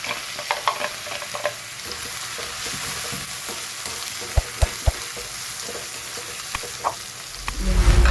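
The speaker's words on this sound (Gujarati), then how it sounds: "મરાઈ થઈ જાય એટલે જીરું, હિંગ અને ચોપ કરેલી ડુંગળી એડ" Cumin, asafoetida and chopped onion fry in oil for a sweet bitter gourd curry, a steady close sizzle broken by scraping stirs and a few sharp spoon knocks on the pan, swelling louder near the end.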